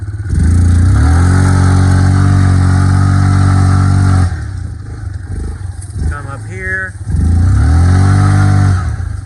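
A Yamaha Kodiak 450 ATV in two-wheel drive revs hard up a steep trail hill, its loud engine rising in pitch and holding high, easing off midway while a person speaks, then surging again.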